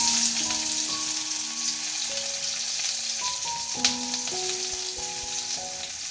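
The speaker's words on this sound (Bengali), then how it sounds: "আর দিয়ে চিকেনটা চাপিয়ে দিয়েছি" Chicken sizzles and spits steadily in a hot pan, a continuous close frying hiss with a few sharper pops, while a soft tonal background hum runs underneath.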